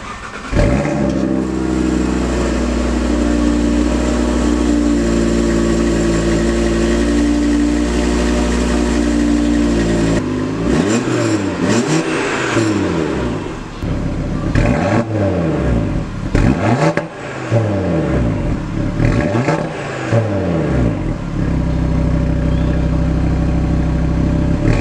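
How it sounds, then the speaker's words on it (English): A 2018 Audi TT RS five-cylinder engine with exhaust flaps idles with a steady low burble, then is blipped repeatedly in sharp revs that rise and fall, settling back to idle between each throttle stab. "So that gives it a really unique tone, and it can also be enhanced by opening up the flaps for the exhaust"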